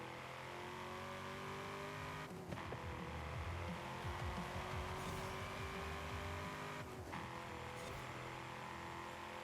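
A race car in the Forza Horizon 5 video game, a 450hp spec series machine, with a droning engine that rises and falls between shifts, tires scrubbing and squealing, loud and continuous throughout.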